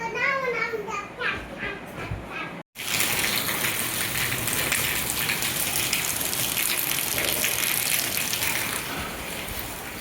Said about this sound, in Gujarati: ચાલો વરસાદ પણ ચાલુ છે